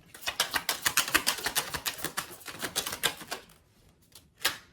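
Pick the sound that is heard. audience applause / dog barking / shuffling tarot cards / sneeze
shuffling tarot cards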